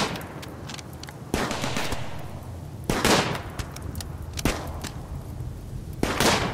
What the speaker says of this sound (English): I didn't realize that incendiary launcher was so damn wild